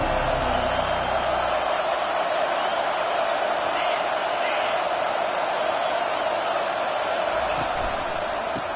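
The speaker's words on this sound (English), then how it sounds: "This crowd bringing an ear-splitting welcome to their visitors." A packed stadium crowd roars continuously in an LSU college football video game, a loud, sustained wall of cheering that holds steady throughout without any clear break.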